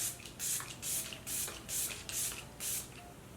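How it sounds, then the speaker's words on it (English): Makeup Revolution Super Dewy setting spray misted over a face in six quick, even bursts, each a soft airy hiss close to the microphone with short pauses between, no talking. "I'm gonna take my Makeup Revolution Super Dewy Spray and I'm gonna spray this all over"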